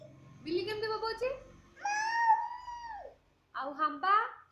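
A baby imitates a cat with three drawn-out, wavering meows, close and fairly loud, separated by short pauses, with the middle call the longest and sliding down in pitch.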